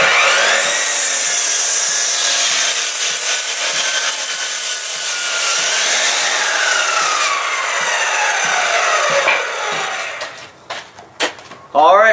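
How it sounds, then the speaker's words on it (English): Power saw cutting wood pieces for a table top in a workshop, a loud continuous whine with shifting pitch through most of the span, ending in a few short clatters and knocks as the cut finishes. "I've already cut my legs, starting to cut the top."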